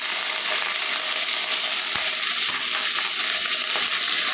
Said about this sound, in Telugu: కొద్దిగా వేగాలండి